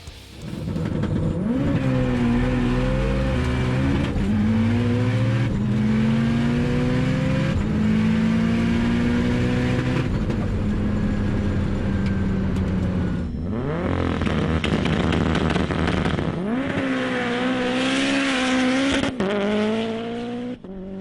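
Mitsubishi Evo 8 drag car with a built 2-litre engine, EFR turbo and sequential transmission accelerating hard down a runway, loud revving climbing through several gear changes with turbo whine, close and alone.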